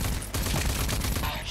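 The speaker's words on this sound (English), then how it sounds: "Ranger assault rifle" Rapid bursts of automatic fire from the Ranger assault rifle in the video game RAGE 2, loud and close, a dense fusillade of shots over a couple of seconds.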